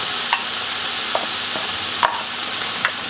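Mung beans and coconut frying in a pan make a constant loud sizzle, with a few sharp scrapes and taps as they are stirred, close up.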